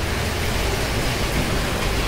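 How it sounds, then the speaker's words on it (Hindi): Heavy rain pours down in a steady, loud, unbroken hiss that stays even throughout, with no voices. "सिर्फ बारिश ही बारिश है"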